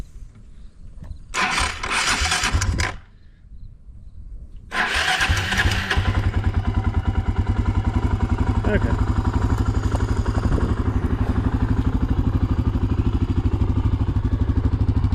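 A dual-sport motorcycle, a KLR650 or DR350, is started outdoors: two starter cranking bursts, then the single-cylinder engine catches and settles into a steady, fairly close idle, with a brief word spoken over it.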